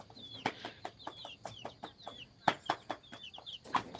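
Native gavran hens cluck in short repeated bursts on a village poultry farm, with high chirps from other birds scattered between the clucks.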